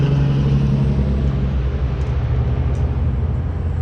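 Loud, steady low engine rumble of heavy vehicles passing close by, a continuous roar filling the whole clip with no talk.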